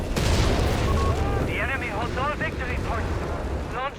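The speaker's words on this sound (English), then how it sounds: "Another massive incendiary barrage here." Incendiary artillery barrage in the video game Company of Heroes 3, a dense rumbling roar of blasts and fire with whistling, warbling shell or weapon tones rising over it, loud and continuous.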